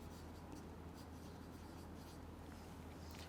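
Writing on a board during a biology lecture makes a faint, continuous scratching against a quiet room background, with no talking.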